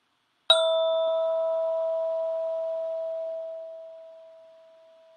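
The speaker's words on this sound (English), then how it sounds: "when I will ring the bell" A single mindfulness bell is struck once, giving a clear bright ring that sustains for several seconds and then slowly fades into silence.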